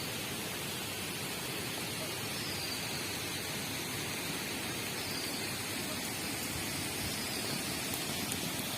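Steady rain falls at a fishing spot as an even, unbroken hiss with no variation, close and fairly loud, and no voices.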